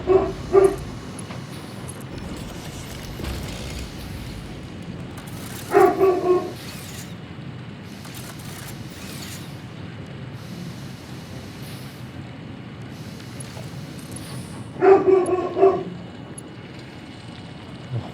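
A dog barks in two short bursts several seconds apart, a few quick yips each time, moderately loud over a steady background hum with no one talking.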